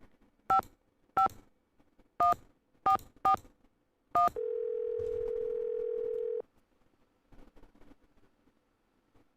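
A telephone in a Nancy Drew mystery game dials out: six crisp touch-tone beeps in an uneven rhythm, then a steady dial tone held for about two seconds, clean and close, followed by faint clicks.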